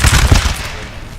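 Musket gunfire crackles in a Napoleon Total War battle, a loud ragged volley of overlapping shots that fades into a rumbling tail.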